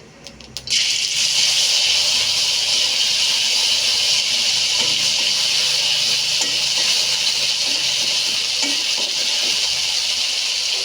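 Cumin paste tempering in hot oil for a small-fish curry gives a sudden loud, steady hiss of sizzling that starts after a brief quiet moment and continues evenly, heard close with no talk.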